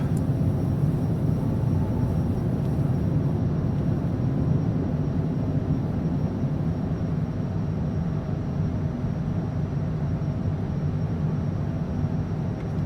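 An aircraft climbing just after rotation on takeoff from Dubai, heard as a loud, steady broadband engine roar and rumble that holds constant throughout with no talk.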